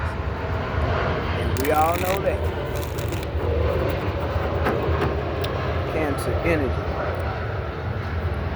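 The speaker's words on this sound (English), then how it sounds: "I do apologize for the noise, but I don't have any control over the planes." A propeller airplane drones loudly overhead throughout, a steady rumble that swells and fades slightly while someone speaks over it.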